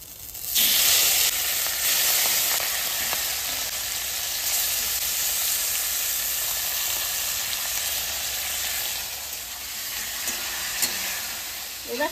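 Raw magur catfish, rubbed with spices, hits hot oil with bay leaves and dried chillies, giving a loud, steady sizzle that hisses on for several seconds with no talking.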